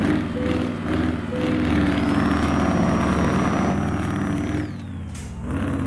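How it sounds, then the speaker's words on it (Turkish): DAF truck engine and exhaust roaring steadily in Euro Truck Simulator 2, a loud continuous low drone with a rising whine, hauling five trailers near a bridge, dipping briefly near the end. "Egzoz cayırıyor abi."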